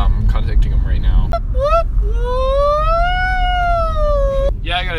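A person's voice imitating a police siren with a long rising and falling wail, loud and close, set against steady car road rumble, with a short spoken exclamation at the start.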